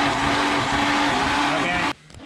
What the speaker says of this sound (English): Kyle, you wanna crank it over?